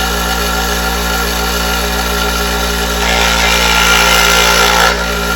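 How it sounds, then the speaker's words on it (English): Mattel Power Shop toy saw with an abrasive up-and-down blade cutting balsa wood, a steady buzzing motor drone with a rasping cut that grows slightly louder toward the end, no voices. "Cuts balsa pretty good."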